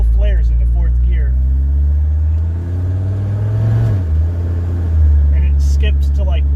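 A Mercedes-Benz W123 300TD with the OM617 diesel pulls away cold, its engine droning loud and steady as the revs rise, dip and flare up again during a sloppy gear change, with someone talking over it.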